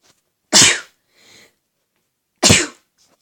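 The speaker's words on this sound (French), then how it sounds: "Excusez-moi, j'ai éternué." Two sharp, close sneezes about two seconds apart, with a soft breathy sound between them, in an otherwise quiet room.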